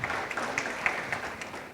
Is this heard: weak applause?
yes